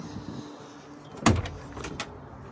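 Door of a 2022 Thor Rize M RV opening, a sharp latch clunk followed by a couple of lighter rattling clicks, close and brief against a quiet background hum.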